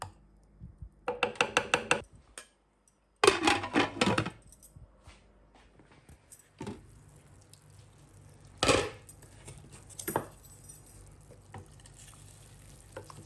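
Beef fat simmering down into tallow in a pot on low heat, soft crackles and brief sizzling pops in scattered clusters, fairly close, with no talking.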